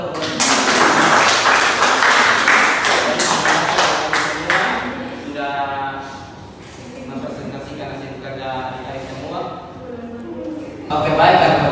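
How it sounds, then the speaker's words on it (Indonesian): Students in a classroom applaud during a micro-teaching lesson on cooperative group work, a dense burst of clapping for the first few seconds that thins out as a voice takes over. "Tepuk tangan untuk"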